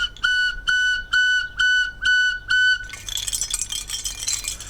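An eagle-bone whistle sounds six short, evenly spaced, bright toots at one steady pitch, close and alone, followed by a wash of faint clinking noise.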